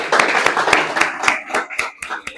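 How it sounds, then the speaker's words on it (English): An audience at a business presentation on succession planning claps in a steady, rhythmic beat, with sharp, evenly spaced hand claps sounding close and fairly loud throughout. "So let's clap to"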